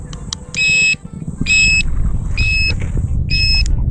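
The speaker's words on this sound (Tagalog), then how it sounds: "Turn signal." A 2000W electric cruiser bike's turn signal beeps in four evenly spaced electronic tones, loud and close, over a low motor or ambient rumble.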